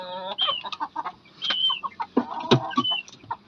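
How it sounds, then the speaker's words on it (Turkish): A rooster and hen of an Indian game breed clucking close by in short, irregular bursts of throaty calls, with brief quiet gaps between them. "Bunlar da hediye olarak gelen bir horoz, bir tavuğumuz."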